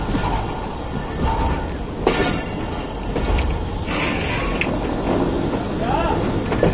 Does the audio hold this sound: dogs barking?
no